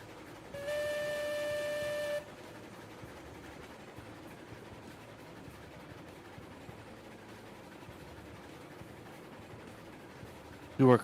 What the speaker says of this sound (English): I heard the whistle.